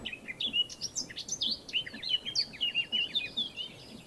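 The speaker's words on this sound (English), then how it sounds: "Man, birds are just loud for some reason." Video game birds chirping and tweeting in quick, bright, overlapping calls, loud and close, running steadily with no voice over them.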